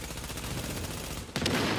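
Rapid automatic gunfire in The Division video game, a dense continuous burst of shots with a brief pause before another loud volley.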